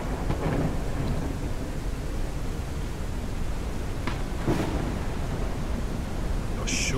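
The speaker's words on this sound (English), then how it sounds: "Surely the storm goes away." Thunderstorm in the Forever Skies video game, with steady rain hiss and a few short thunder cracks toward the end, moderately loud and without talking.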